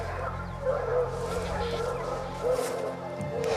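Hunting dogs bark and yip in short bursts while holding a bushpig at bay in bulrushes, heard fairly faint and at a distance against a low background drone.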